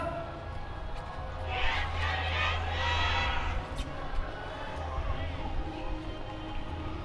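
Crowd noise at the Kuroshio yosakoi festival's Symbol Road venue, a swelling burst of cheering and scattered clapping from the audience mixed with a low steady hum, people talking amid the din.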